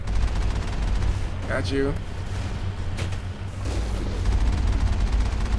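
Enemy gunfire in the video game Mass Effect, a dense, continuous rattle of shots and booms filling the whole stretch, with someone talking over it.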